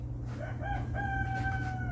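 A rooster crows once, a bright drawn-out cock-a-doodle-doo that rises and holds, heard at moderate distance over a steady low hum.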